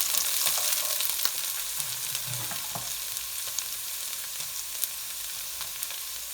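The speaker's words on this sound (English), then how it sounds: "I'm going to get my onion in there." Onion frying in a pan with about half a teaspoon of ginger paste for biryani rice gives a steady, close hiss and sizzle, with a few faint utensil clicks and scrapes.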